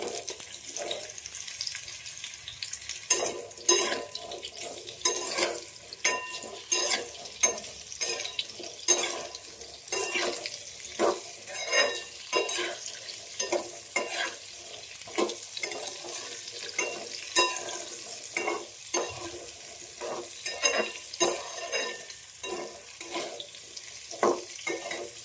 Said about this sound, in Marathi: आता तूप गरम झाले तर आपण हे सगळे आता चिप्स टाकून घेऊ